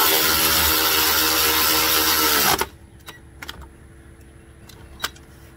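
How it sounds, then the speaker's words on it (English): Bolt tightening on the A/C belt tensioner of a 2014 Kia Soul: a loud steady ratcheting burst for about two and a half seconds stops abruptly, followed by a few faint metallic clicks and taps. "you tighten the locking bolt"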